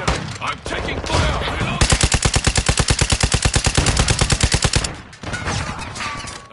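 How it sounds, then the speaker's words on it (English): Automatic gunfire in Call of Duty Modern Warfare 2 multiplayer, a long rapid burst of loud, evenly spaced shots lasting about three seconds, framed by shorter shots and game battle noise before and after. "I'm taking fire!"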